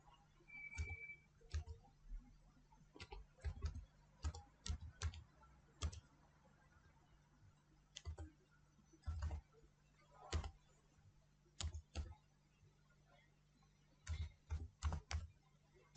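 A web address is typed on a computer keyboard in faint, irregular bursts of crisp key clicks with short pauses between them, heard close and quiet with no one speaking.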